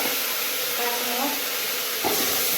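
Spices for a brinjal and potato curry temper in hot oil, producing a loud, unbroken hiss that stays even throughout and ends with a short bump near the end.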